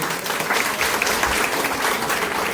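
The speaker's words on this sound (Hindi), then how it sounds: "एक बार शीला जी के लिए तालियां दो" Audience applause fills a fashion show of cotton, khadi and handloom garments, a dense steady clapping from a crowd that holds at even loudness throughout, with no talk over it.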